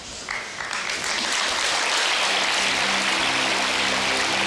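Applause from a studio audience on a French TV show swells quickly into loud, dense, sustained clapping that holds steady to the end, with a faint musical tone underneath.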